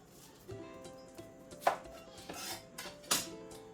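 A knife chopping an onion on a cutting board, a handful of crisp irregular knocks and slicing taps against a quiet kitchen background, close and distinct with no voices.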